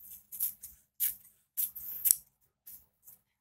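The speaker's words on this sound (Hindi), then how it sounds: "हम इस तरीके से सीधा कट कर देंगे" Scissors snip repeatedly through material while a doll is being decorated, several short crisp cuts in irregular bursts with brief pauses between, close and fairly quiet, with no talking.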